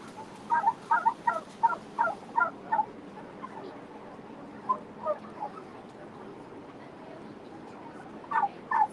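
Turkeys gobble in repeated rapid bursts inside a barn on a turkey farm, several calls close together, then scattered gobbles after a lull, over a steady background hum.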